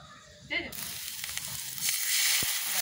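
Spice masala fries in a pan during rooftop cooking, with a steady hiss that starts abruptly after a brief moment, holds at a moderate level, then swells louder and stays strong to the end.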